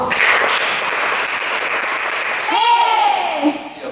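An audience claps along in a clapping game at a youth service, a dense steady patter of many hands through most of the stretch, with voices and a whistle-like tone near the end as the clapping breaks off.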